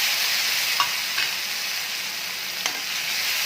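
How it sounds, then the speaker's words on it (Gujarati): Green chillies and tomatoes added to garlic in a pan, a steady hiss of frying oil with a few faint clicks of a spoon stirring, close and continuous without speech. "હવે આપણે તેમાં બાકીની બધી લીલોતરી નાખી દઈશું, લીલી મરચી અને ટમેટાં।"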